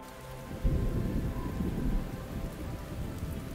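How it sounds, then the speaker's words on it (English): A Void Storm in the Fishing Simulator video game: steady heavy rain with a deep rolling thunder rumble that swells early and lingers under the downpour. "It's the first void storm."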